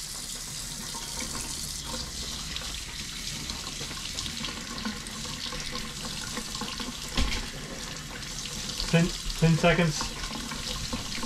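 Hot water runs steadily from a sink faucet fed by a Fogatti tankless RV water heater, a constant broadband hiss with a few louder splashes and clatter near the end, while a person talks over it.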